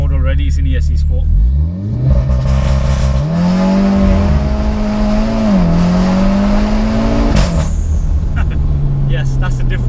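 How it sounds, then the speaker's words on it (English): A tuned, carbon-fibre-covered 2018 VW Golf R 7.5 launches hard in ESC Sport mode: a loud, close engine holds high revs, then climbs through a long rising pull before dropping back abruptly near the end. "Yes, that's a different launch to standard."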